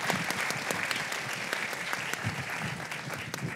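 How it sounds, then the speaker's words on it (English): An audience at a university event on women in sport gives a steady round of applause, a dense even patter of clapping that holds for the full length. "let's have a round of applause over here"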